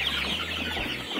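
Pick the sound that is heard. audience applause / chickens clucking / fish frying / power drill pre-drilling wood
chickens clucking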